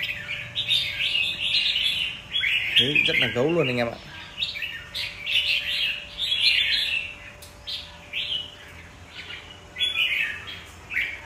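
A caged red-whiskered bulbul sings in bursts of bright, loud chirping phrases close by, repeated through the stretch, with someone talking briefly partway through.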